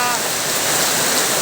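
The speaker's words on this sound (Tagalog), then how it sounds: "Ngayon ay sobrang lakas na ang buhos ng ulan." Heavy rain pours down steadily on a windless morning in a rural barangay, a dense, continuous hiss of water close by with no breaks or other sounds.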